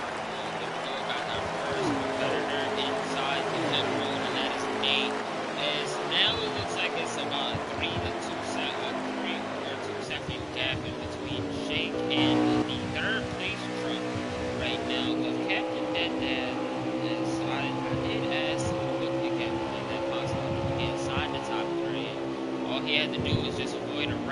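Race trucks roll down pit road during a truck racing broadcast, engines droning and revving throughout while a commentator talks steadily over the noise.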